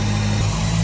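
Supercharged BMW E90 M3 engine running at a steady idle, a loud continuous low drone with strong low harmonics and no voices over it.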